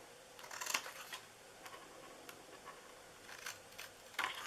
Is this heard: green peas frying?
no